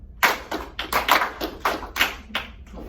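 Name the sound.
class clapping a rhythm in groups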